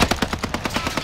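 Rapid automatic gunfire in a shooter video game, a steady rattling stream of about ten evenly spaced shots in one second, loud and close with no talk over it.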